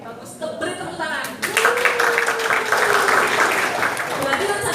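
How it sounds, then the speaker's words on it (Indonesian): A large class of students applauds during a career-planning guidance session, clapping swelling up after a teacher's speech and continuing loudly, with voices mixed in. "Beri tepuk tangan."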